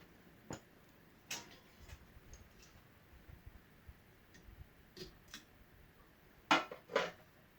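Ticking from the motor of a Design House Manhattan six-blade polished brass ceiling fan with an AstroSyn motor, faint irregular ticks and clicks at close range, a couple of louder taps near the end, no talking.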